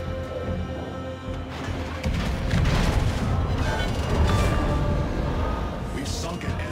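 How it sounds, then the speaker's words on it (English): Heavy naval gunfire from HMS Queen Mary in World of Warships, a dense roar of booming salvos that swells loud and sustained from about two seconds on, with game audio layered throughout. "Concentrate fire on the enemy warship"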